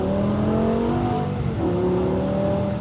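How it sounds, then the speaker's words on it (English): A BMW M5 with a V10 engine accelerates under load, its raspy exhaust rising in pitch as revs climb, then dipping briefly with a gear change before pulling up again, loud and close throughout. "you just get that raspy sound through the exhaust."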